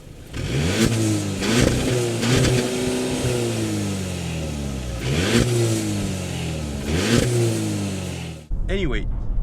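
A 2018 VW Passat 1.8 TSI engine revs up through rising gears twice, pitch climbing and dropping between shifts, loud and close, before cutting to a quieter idle.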